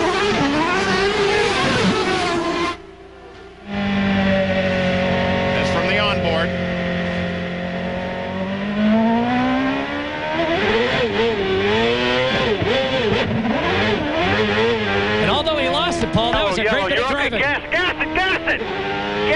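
Juan Pablo Montoya's 925-horsepower IndyCar race car engine revs hard and sustained through a restart, pitch climbing and wavering with gear changes, loud and close under an excited commentator talking throughout.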